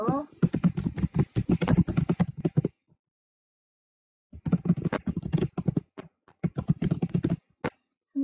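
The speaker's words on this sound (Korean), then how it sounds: "Alt 엔터를 눌러서 두 번째 줄도 입력합니다." Fast typing on a computer keyboard while entering text into an Excel 2016 or 2021 spreadsheet, with a dense run of close key clicks, a pause of about two seconds, then another burst. A voice speaks briefly at the very start and end.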